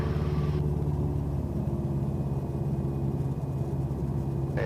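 Light training aircraft engine being throttled back in a banked turn, a steady close droning rumble with a low hum that eases in pitch early on and then holds continuous throughout.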